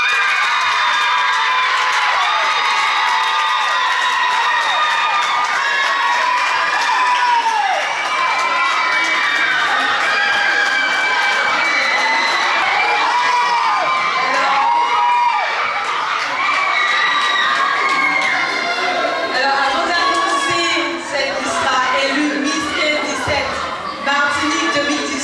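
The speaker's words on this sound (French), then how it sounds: "Avec un tonnerre d'applaudissements" A large crowd cheers, whoops and applauds continuously at a Miss 15-17 beauty pageant in Martinique in 2018, a loud, dense roar with high shouting voices throughout.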